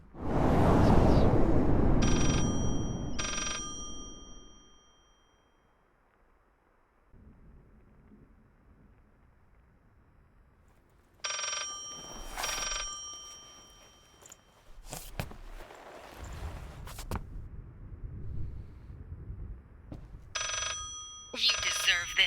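Telephone ringing in the horror video game Layers of Fear, short bursts of electronic ringing repeated across the scene, following a heavy rumbling thunder-like roar at the start, with other eerie knocks and noises in between.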